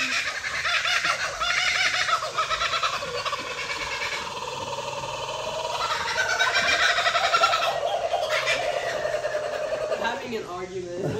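Parrots at Parrot Mountain & Gardens screech and chatter, harsh overlapping calls from several birds, fairly close, with people talking over them at times.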